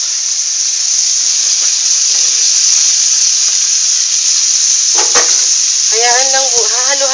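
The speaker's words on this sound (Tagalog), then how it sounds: "At ilalagay na rin natin yung toge." Bean sprouts sautéing in a pan with tomato and celery, a loud, dense, steady hiss of sizzling oil up close, with a few stirring clatters and a voice briefly at the end.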